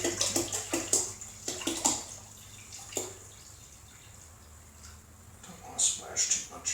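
Liquid for homemade Niagara wine poured into a bucket, a close splashing rush with several bursts of drips and sloshes, a quieter trickle midway, then renewed splashes near the end.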